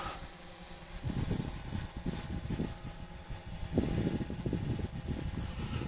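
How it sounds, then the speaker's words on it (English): A Yuneec Typhoon H drone hovers and yaws in flight, giving a faint, steady propeller whir with a thin high whine and soft low flutters. "Now I'm yawing it with the actual copter now."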